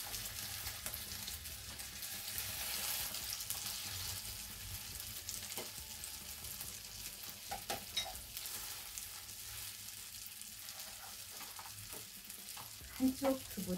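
Tofu frying in a pan for a tofu garlic toast, a steady soft sizzle and crackle at moderate distance, with a few louder pops and clinks near the end and no talking.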